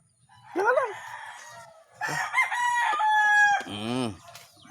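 Chickens nearby give loud clucks and a drawn-out crowing call in quick succession, with a few shorter squawks.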